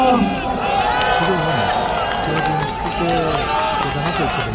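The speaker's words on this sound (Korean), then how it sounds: "한 박수 부탁드립니다." Crowd at an outdoor protest rally bursting into loud, sustained applause and cheers, dense clapping mixed with shouting voices throughout.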